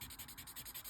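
Colour is smoothed into a small drawing tile, a faint, soft rubbing stroke repeated rapidly back and forth in an even rhythm, close and quiet with no voices.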